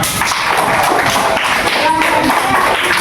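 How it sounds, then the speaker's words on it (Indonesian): A short burst of classroom clapping for a student after his answer, quick overlapping hand claps from nearby pupils lasting a few seconds, with no talking over it. "tepuk tangan buat Azam"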